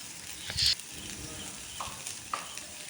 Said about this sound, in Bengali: কড়াইয়ে তেল দিয়ে আমি সয়াবিনটা ভেজে নিচ্ছি